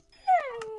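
A dog in the Minecraft video game gives a single short, high whimper that slides downward into a thin whine, close and fairly soft.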